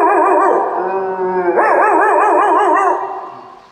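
A performer on a televised singing show vocally imitates a dog barking at a stranger, producing a loud, wavering, howl-like cry that climbs midway into a warbling, bark-like yowl before tapering off, with nothing else audible.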